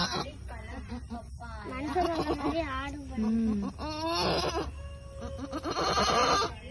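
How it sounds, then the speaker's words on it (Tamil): A goat giving birth at a home in India bleats and cries out in strained, wavering calls, close and loud, while people talk over and between the cries. "எங்க வீட்டுல வந்து ஆடு குட்டி போட்டுக்கிட்டு இருக்கு."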